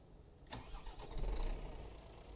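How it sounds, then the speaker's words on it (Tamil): An old KSRTC bus engine cranks and catches, a brief starter burst followed by a low, rumbling idle that swells briefly, heard fairly faintly. "சூப்பர் ஸ்டார்ட் ஆயிடுச்சு கைஸ் வேற மாதிரி ஸ்டார்ட் ஆயிடுச்சு"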